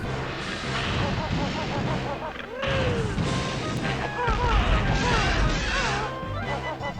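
Cannon blasts in the video game Banjo-Tooie, loud booming hits repeating over busy game music and effects throughout.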